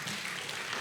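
A church congregation at a Wednesday Bible study applauds, a dense, steady wash of clapping that holds at an even level throughout.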